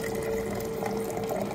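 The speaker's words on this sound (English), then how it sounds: "I'm gonna fill up my water bottle." Water runs steadily from a public water station at Disney's Animal Kingdom into a water bottle, a continuous close trickling fill under outdoor background hum, with no talking.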